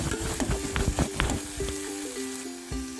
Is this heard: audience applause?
no